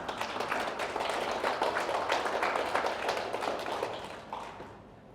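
Audience at a self-improvement lecture giving a sustained round of applause, dense steady clapping that fills the room and tapers slightly at the end.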